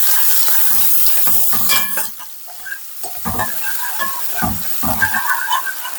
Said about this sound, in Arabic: الزيت سخن خلاص، هنحط بقى ننزل معانا بالبصل والثوم